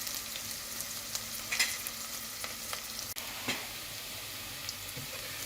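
Onions frying to golden in a pan for beef paya: a continuous close hiss of hot oil, broken by occasional soft stirring scrapes and taps, with no voices.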